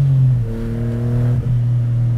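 An Autozam AZ-1 kei car's small engine revs while heel-toe downshifting, a close, loud note rising steadily, dipping sharply with a quick blip, then settling into a steady drone.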